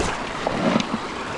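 A British Columbia river flowing in the afternoon, heard as a steady, fairly loud broadband rush of water with a few faint splashes, close by and without talk.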